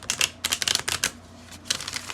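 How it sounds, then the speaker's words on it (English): Tarot cards being shuffled by hand in a series of quick crisp riffling bursts, close and fairly quiet, with a short pause before a final flurry, no talking. "let's shuffle some more"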